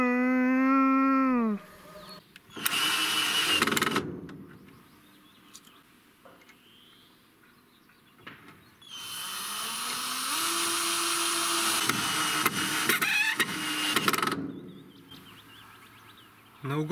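A power drill drives self-tapping screws into metal corner brackets on house facade scaffolding, with loud whirring bursts that ramp up and stop, a long run in the middle, and a voice speaking briefly at the start.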